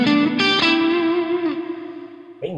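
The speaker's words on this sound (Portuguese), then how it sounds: "Vamos ver aqui com o volume mais alto como é que é esse reverb de mola." A spring reverb effect on a Cuvave Cube Baby guitar amp rings out behind a few loud, distorted guitar chords at high volume, with the dense wash sustaining and slowly decaying for about two seconds before a final pluck.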